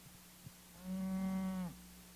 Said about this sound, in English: Come on, cow.